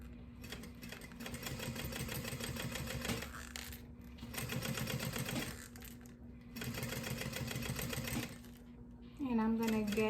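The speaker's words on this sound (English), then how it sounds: "And I'm going to start sewing." A sewing machine stitches a crossbody bag in steady rapid bursts with brief pauses, fairly close and continuous, with a short bit of higher whirring at the end.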